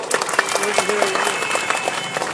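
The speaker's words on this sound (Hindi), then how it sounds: "तालियां बजाकर इसका स्वागत कीजिए आप लोग।" Crowd applause at a political rally in Bhiwandi, broad and steady clapping with cheering voices mixed in, fairly loud and continuous for a couple of seconds.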